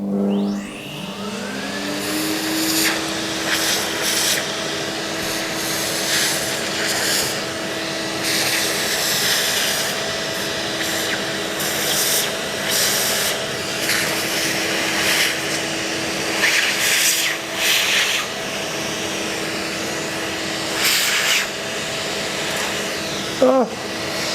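A hoover runs continuously while vacuuming dust off a track, a loud, steady motor drone with a rising whine at start-up and occasional sucking and rattling bursts as the nozzle moves, close throughout.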